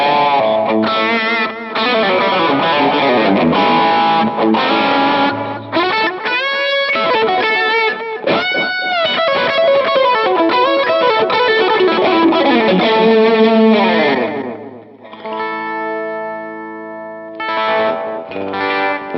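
An electric guitar fitted with Lollar Novel T pickups, driven through a JHS overdrive pedal, plays a long, loud, gritty passage of strummed chords and riffs that ends in sustained ringing notes, with no talking.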